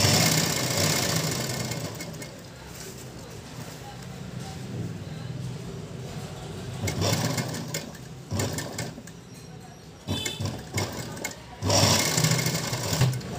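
A sewing machine stitches a stand collar on a garment in several rapid mechanical bursts, with short pauses between runs, close and fairly loud.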